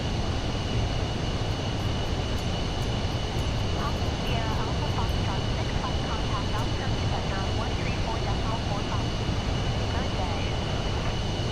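Jet engines of an aircraft in a flight simulator game roar loudly and continuously, a broad steady rumble with a faint high whine. Someone talks over the noise.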